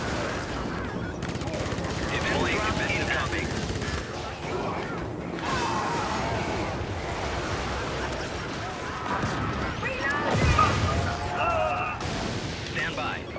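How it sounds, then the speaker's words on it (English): Rail cannon fire in a video game, set within a dense, busy battle mix of gunfire and explosions; heavy sustained noise with a sharp loud burst near the end, speech mixed in. "Rail cannon's off cooldown, so I'm going to use that now."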